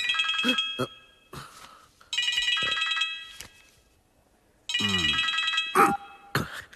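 A mobile phone ringtone sounds loudly in bursts of repeating electronic tones, pausing between rings, with a brief voice heard faintly during the ringing.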